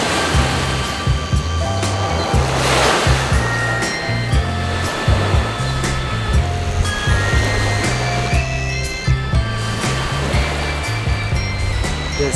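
Ocean waves at Railay Beach in Krabi, Thailand, at higher tide, a steady close wash of surf with swelling breakers and a low rhythmic rumble underneath.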